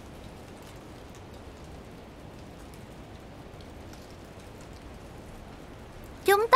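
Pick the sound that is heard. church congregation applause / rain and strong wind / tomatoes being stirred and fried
rain and strong wind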